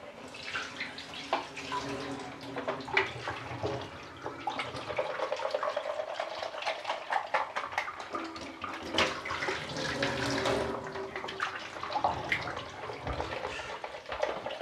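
Used one-shot film developer being poured out in a darkroom, a continuous gurgling, splashing stream of liquid running for many seconds at moderate loudness.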